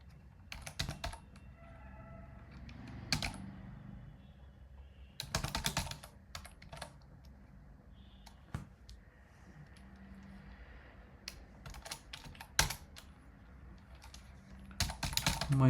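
Code being typed on a computer keyboard, with steady close-up clicking and several dense bursts of rapid keystrokes amid quieter stretches.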